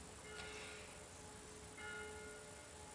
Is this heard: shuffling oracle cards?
no